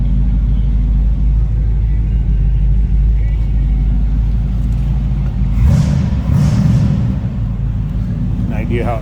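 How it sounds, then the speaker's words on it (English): A 1939 Oldsmobile Series 60 sedan with a 350 V8 idles with a deep, steady, loud rumble throughout, briefly swelling midway as the engine is blipped. "Just a nice rumble coming out of that 350."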